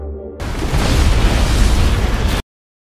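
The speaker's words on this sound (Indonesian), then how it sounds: "sehingga membuat kapal itu meledak dan jatuh di wilayah Laos" A loud, roaring explosion bursts in suddenly, rumbling heavily for about two seconds before cutting off abruptly into silence.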